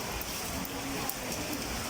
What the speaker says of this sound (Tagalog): Lakas ng ulan, wala pa namang hangin